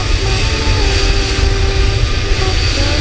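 Airliner taxiing to the gate in Microsoft Flight Simulator, a steady loud engine drone with low rumble and faint whining tones, continuous and unchanging with no talk.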